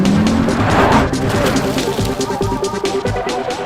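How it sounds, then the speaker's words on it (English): An Audi RS Q3's 2.5-litre five-cylinder turbo engine roars loud and close, a rising rev sweep giving way to a dense, rumbling drone with rough pulses, and no one talking. "let's fire up the engine and see if it really deserves that badge"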